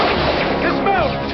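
Gunfire crackles through an ambush as bursts of shots and impacts pile on one another in a dense, loud barrage, with voices heard in the chaos.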